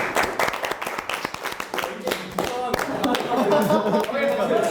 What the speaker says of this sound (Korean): 치훈님한테도 박수